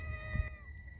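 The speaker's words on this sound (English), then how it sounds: "Y'all see this cat keep coming back, child." A stray cat outdoors by a garden fountain gives a single short meow, close by, over light background noise.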